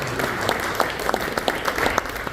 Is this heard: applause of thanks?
yes